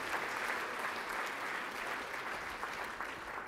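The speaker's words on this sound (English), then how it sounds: "Please give a round of applause to Bill Newcomb." A banquet hall audience at an award dinner applauds Bill Newcomb with dense, steady clapping that holds at an even level from start to finish, with no voices over it.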